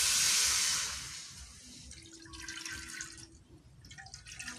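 Tap water running into a pot or sink while cooking pancit canton, a steady splashing hiss that fades and then continues in uneven trickles, with no voices.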